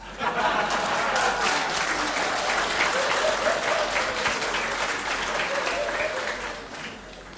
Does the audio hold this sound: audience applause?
yes